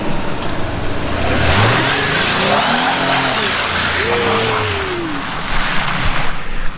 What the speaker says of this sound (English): Did a small little burnout.